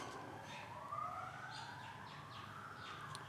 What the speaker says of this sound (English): you might be able to hear the sirens